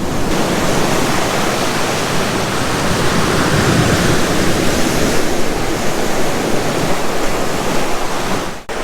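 Ocean waves wash up on Hyams Beach, NSW, at sunrise in a steady, loud, continuous roar of surf, with no talking.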